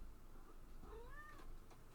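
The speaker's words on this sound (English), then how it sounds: "Apparently it's a cat." A cat gives a single soft, rising meow, faint and brief against low background hiss.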